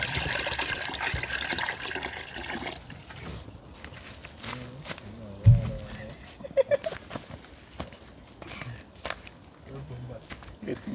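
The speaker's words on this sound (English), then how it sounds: "Get you some water." Water pours and trickles into a cooking pot to be boiled for ackee and chicken back, cooked outdoors in the hills. The splashing is broken by a few knocks and shuffling steps, with a voice faintly in the background.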